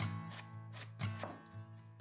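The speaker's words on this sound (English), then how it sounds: "So for the stuffing, I'm chopping up about 2 cups of sausage" Knife chopping plant-based apple and sage sausage links on a cutting board, several soft, quick, irregular chopping thuds, faint and close with no talking.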